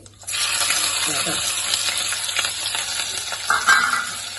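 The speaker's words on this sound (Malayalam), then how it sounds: "ഒന്ന് ഇളക്കി കൊടുക്കണം ഒന്ന് മിക്സ് ആക്കി കൊടുക്കാം" Dry fish curry mixture with crushed shallots, garlic, chillies and peppercorns being stirred in a pan on a low simmer, a close, steady sizzle with soft scraping stirs over a low hum.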